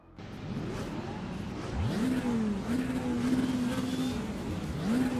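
A Lamborghini Temerario engine in a racing video game revs up and holds a steady high drone, with repeated rises in pitch as it accelerates over a continuous rumbling background.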